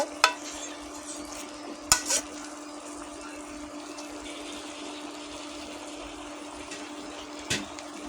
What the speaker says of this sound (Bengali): ভালো করে নেড়ে কষিয়ে নেব।